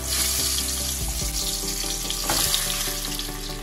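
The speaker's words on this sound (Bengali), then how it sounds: "তেল গরম হয়ে গেছে, এবার মাছের মাথাগুলো প্রথমে আমি ভেজে নেব।" Fish heads frying in hot mustard oil, a loud close crackling sizzle with a few clinks and stirring sounds, continuous with no talk.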